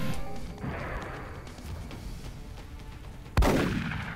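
A gunshot missing its target in the turn-based strategy game XCOM: Enemy Unknown: a quiet lead-in of ambient game sound, then one sudden loud sharp shot with a lingering tail near the end.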